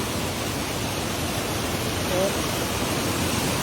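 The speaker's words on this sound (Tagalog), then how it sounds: "So napakagandang falls dito mga kaibigan" A river waterfall pours in a steady, dense rush of water that holds evenly from start to finish, close and fairly loud, with no other sounds standing out.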